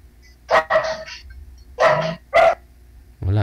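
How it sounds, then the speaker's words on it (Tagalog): A dog barks repeatedly, four or five loud sharp barks in irregular bursts close to a phone microphone, with quieter gaps between them. "walang aso na tahol ng tahol"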